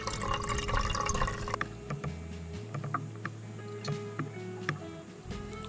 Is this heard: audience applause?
no